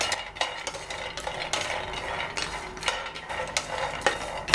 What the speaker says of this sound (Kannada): ಸ್ವಲ್ಪ ಭಾಗದಷ್ಟು ಫ್ರೈ ಆದಮೇಲೆ ವಾಲ್ನಟ್ ಹಾಕ್ತಾಯಿದ್ದೀನಿ. ಲೋ ಫ್ಲೇಮಲ್ಲಿ ಇಟ್ಕೊಂಡೇ ಹುರ್ಕೊಳ್ಬೇಕು.